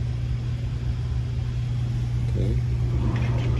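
An air conditioning unit in a house for sale hums as a steady low drone throughout, with a person speaking briefly over it.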